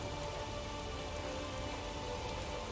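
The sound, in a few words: rain in The Witcher 3 video game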